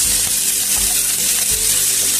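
Vegetables added to browned onions sizzle and fry in a pan while cooking oats khichuri, a steady loud hiss that runs throughout with faint stirring underneath and no voices.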